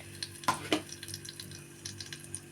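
Cinnamon and cloves frying in hot oil and ghee give a soft, light sizzle close by, broken by two sharp clinks of a spoon or pan early on and scattered faint taps after.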